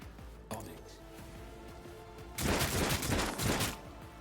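A barrage of gunfire from Warhammer 40k Rogue Trader, a dense burst of rapid, overlapping shots that erupts after a quieter stretch and rolls on for over a second.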